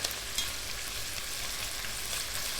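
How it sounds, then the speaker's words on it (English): Beef sears in a hot pan while it is browned for braising, giving a loud, steady, crackling sizzle up close with a few brief pops and no talking. "You just need to leave the beef in the pan at a nice searing heat"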